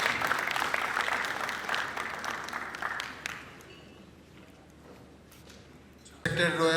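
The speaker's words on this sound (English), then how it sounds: "Please, let's welcome His Excellency with a resounding applause." An audience applauds to welcome a speaker at a book-release event in Ile-Ife, clapping strong for about three seconds and then tapering to quiet before a voice cuts in at the end.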